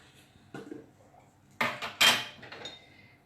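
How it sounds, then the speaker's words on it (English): A cooking pot set down on a hard surface, with a few close metallic knocks and clatters, the loudest near the end, over a quiet kitchen background. "I'm going to place the pot here"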